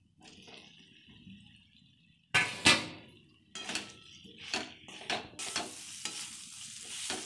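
Fried cauliflower pieces are tipped into a pan of cooked spice paste with turmeric and salt and stirred. Quiet sizzling is broken by a sharp clatter as they drop in, followed by a series of scraping stirs.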